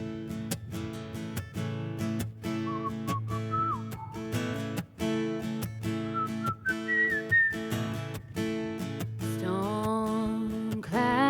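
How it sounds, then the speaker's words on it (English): A person whistles a solo melody outdoors in windy weather during a live set. The tune is clear and carries with varied sliding notes over steady sustained musical accompaniment throughout. "this is going to be the most challenging whistling solo I'll ever do in my life with this wind"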